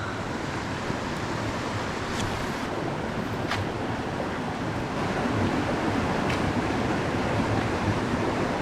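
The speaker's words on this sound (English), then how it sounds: "We're so close to the waterfall" A mountain waterfall in a jungle setting roars nearby in a constant, dense rush of falling water, with a few faint clicks over the steady wash.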